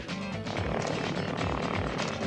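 An airplane roars overhead, a loud, steady, broadband engine rumble that holds close and constant, with no break or fade across the moment.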